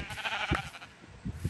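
Bleating of sheep in Minecraft, a few short, nasal cries near and moderately loud over a busy game background.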